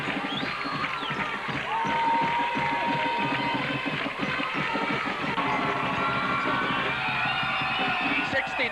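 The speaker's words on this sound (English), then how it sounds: "Listen to the crowd" A football stadium crowd at a 1991 Nevada AA high school semifinal cheers and shouts after a touchdown, a dense sustained roar of many voices with whoops and children's yells, loud and continuous.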